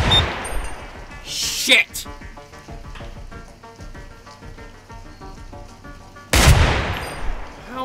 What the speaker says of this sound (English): This is a really loud gun.